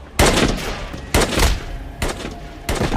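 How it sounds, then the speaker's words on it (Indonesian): Four heavy bursts of gunfire roughly a second apart, each a loud rattling volley that decays briefly before the next. "mereka menghujani Leo dan Senator dengan tembakan"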